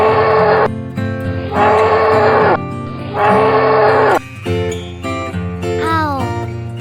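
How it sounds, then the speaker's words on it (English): A bull moos once, a long, low, falling call near the end, heard over loud, bright backing music that pulses on and off throughout. "bull"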